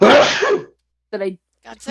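A loud, sharp sneeze bursts out at the start and trails off, followed by two short bursts of talk after a brief silence.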